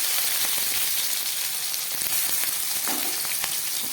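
Capsicum frying in hot oil with garam masala and cumin for a paneer dish, a dense, steady close sizzle with faint stirring scrapes running through it.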